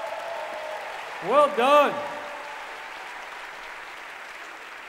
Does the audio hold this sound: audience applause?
yes